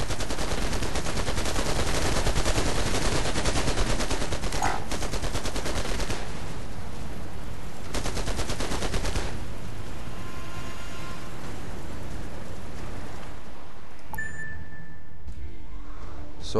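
Sustained rapid gunfire pours down on a vehicle under attack in the strategy game Anno 2070, a dense rattling stream that thins out partway through, leaving quieter game noises and faint electronic tones.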